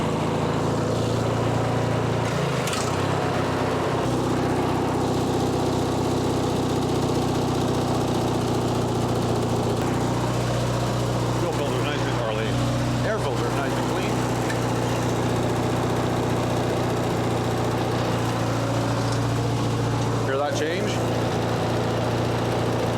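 A Craftsman riding lawn mower engine runs steadily nearby, a continuous droning idle, while someone talks over it.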